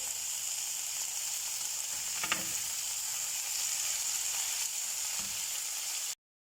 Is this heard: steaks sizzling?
yes